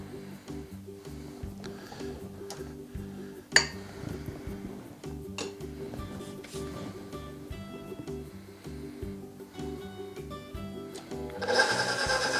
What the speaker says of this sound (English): And you're going to turn on your mixer.